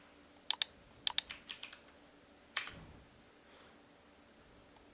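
Quiet, close typing on a computer keyboard: short bursts of sharp key clicks separated by pauses, in an otherwise silent room.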